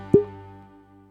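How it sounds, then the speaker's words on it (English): A single soft pop as a whiskey bottle's cork is pulled, short and close, followed by a faint tonal hum in an otherwise quiet room. "Opening the bottle."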